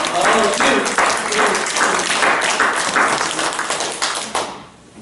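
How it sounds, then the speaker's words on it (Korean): Church congregation clapping during an Easter Sunday morning worship service, a dense burst of applause with rhythmic clapping bursts that fades out near the end. "주님께 영광의 박수를 한번 올려드렸으면 좋겠어요."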